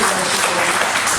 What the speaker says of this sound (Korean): 위로 박수 우리 한번